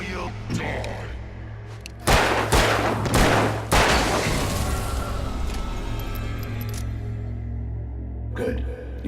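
Gunfire from the Alan Wake game: a few loud, sharp shots spaced over several seconds, ringing over a constant low droning ambience, with another sharp hit near the end.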